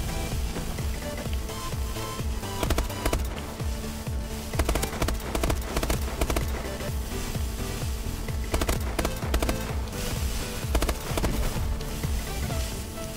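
Rapid automatic gunfire in Call of Duty: Advanced Warfare free-for-all multiplayer, dense continuous bursts of shots with game sounds and no clear talk.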